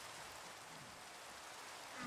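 Rain falls steadily in the Minecraft video game, a soft, even hiss that stays constant for a couple of seconds and swells slightly at the end, faint and with no talking.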